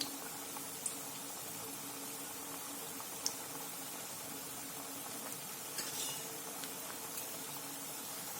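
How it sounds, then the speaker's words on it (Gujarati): Wheat-flour shakkarpara snacks deep-frying in hot oil give a steady, even bubbling sizzle throughout, with a few faint metallic clicks. "બિલકુલ જારાને અડાડ્યા વગર જ આ રીતે જ તળાવવા દઈશું"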